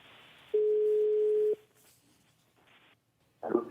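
A steady one-second telephone tone on the line during an attempted call, followed by quiet line hiss and then a burst of noisy line sound; no speech.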